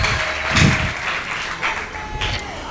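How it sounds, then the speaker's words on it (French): Church congregation clapping loudly in a worship service, a dense steady wash of applause lasting a few seconds with occasional louder bursts, with no speech over it. "Applaudissez très fort pour les Seigneurs."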